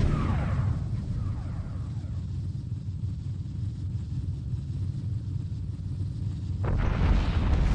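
A hyperspace gate being destroyed in the Homeworld 2 space strategy game, heard as a sustained deep rumbling explosion that rolls on for several seconds, with a fresh burst swelling near the end.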